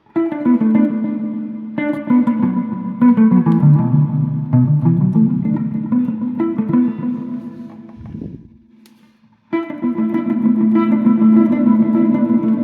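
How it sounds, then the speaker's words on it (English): Electric guitar chords through a modded Black Lodge reverb and delay pedal, ringing with heavy reverb and echoing delay, a brief pause, then the washed-out strumming returns, loud and continuous. "you can bring back in the reverb like we did before."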